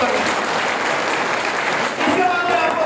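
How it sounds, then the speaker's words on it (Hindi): Crowd applause at an Aam Aadmi Party political rally in Reasi, a dense, steady roar of clapping from many hands that holds loud and unbroken throughout, close and filling the space. "पहले सबसे पहले आप 2000 तालियों के साथ मनकोटिया साहब का शुक्रिया अदा करेंगे।"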